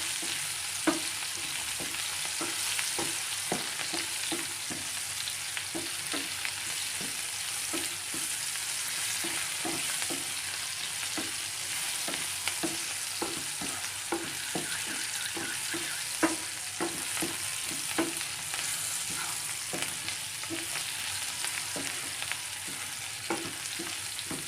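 Pulao ingredients with black pepper and other spices being stirred and roasted in a pan: a continuous close sizzle with frequent rhythmic scraping strokes of a spoon across the pan over about twenty-five seconds, no speech.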